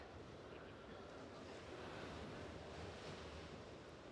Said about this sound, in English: Yes, you're hearing waves.